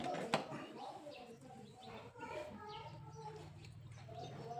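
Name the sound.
chickens clucking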